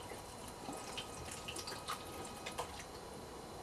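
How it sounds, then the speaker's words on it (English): Alcohol is poured into a small cup while preparing an oil titration with a mini titration kit, making a soft, trickling pour with a few light drips and splashes, close and quiet. "we're then going to pour some alcohol into one of our cups"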